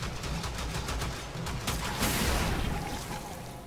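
Exploding crossbow bolts from the Attica in the game Warframe pop in a rapid, dense volley of sharp bursts, loud and continuous, with a heavier cluster of blasts midway.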